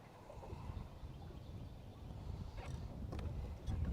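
Steady wind buffets the microphone while fishing from a boat on open water, a low, continuous rumble that swells slightly toward the end, with faint splashes or knocks near the close.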